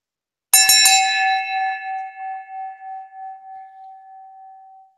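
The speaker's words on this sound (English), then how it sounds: "It's a school bell. It's so loud." A brass school bell is shaken a few times in quick succession, giving sharp bright clangs that then ring out in a long, pure, slowly pulsing tone fading over several seconds, close and loud, with no talk.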